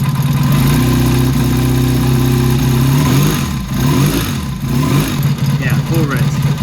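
Rich-running engine idling as its carburetor mixture is set with a Colortune spark plug, a loud steady low rumble that wavers and stumbles partway through, with a voice speaking over it.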